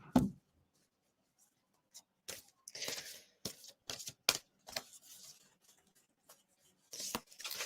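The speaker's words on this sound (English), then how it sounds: "Let's pull some cards" Tarot cards are shuffled and pulled in a series of soft, brief rustles and flicks, close and quiet, separated by silent gaps.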